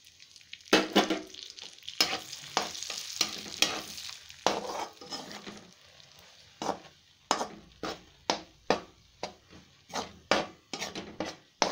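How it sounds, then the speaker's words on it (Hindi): Gram flour roasting in ghee for besan laddu, worked with a spatula: a steady low sizzle broken by repeated rhythmic scraping strokes against the pan, close and crisp, growing more regular toward the end, with no voices. "अब बेसन भून लेते हैं घी डाल करके"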